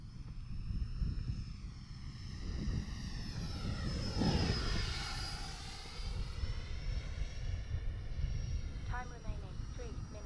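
An Arrows Marlin RC model jet makes a slow pass at an airfield, its whining engine rising and sweeping past in a steady, drawn-out roar with a Doppler pitch shift, while a person talks over it.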